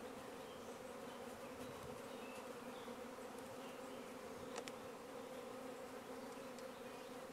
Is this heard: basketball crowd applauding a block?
no